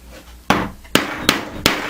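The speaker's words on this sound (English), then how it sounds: "Now these take a few times to get through the leather because I'm using about a 1/4 inch" A 1/4 inch punch is hammered through leather in four sharp, close, loud strikes, spaced roughly every half second.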